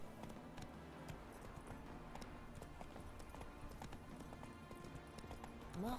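Horse hooves clip-clop steadily in the video game The Witcher 3, a quiet, even run of soft hoofbeats that continues throughout.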